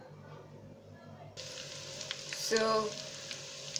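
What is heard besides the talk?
Ghanaian yam balls frying in oil on low heat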